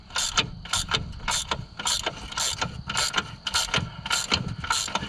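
Rapid ratchet clicks tightening bolts during a steering pitman arm shaft seal replacement, sharp metallic bursts repeating in quick uneven strokes, close and loud with no talk.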